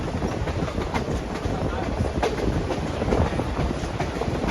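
Nickel Plate Road 756 passenger train rolls along at good speed on an autumn excursion, with steady rumbling clickety-clack of wheels over rail joints and swaying cars heard from on board, loud and continuous.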